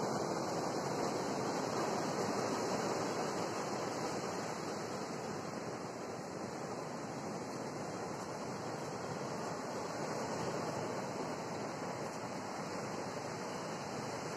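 Surf breaking on the shore at Jetis beach in Cilacap, a loud, steady broadband wash of waves that roars continuously throughout with no pauses.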